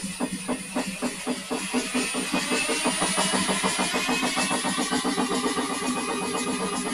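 An engine fitted with a 60-2 crank trigger wheel spins up with a steady rhythmic pulsing that gradually quickens and grows slightly louder, heard close and alone without any talk.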